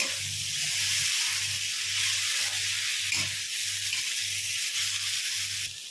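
Potatoes with cumin and crushed dried fenugreek frying in a pan, a steady, bright sizzling hiss with a low, regular pulsing hum underneath, continuous and close, with no speech.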